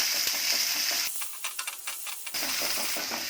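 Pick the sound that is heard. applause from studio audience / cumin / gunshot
cumin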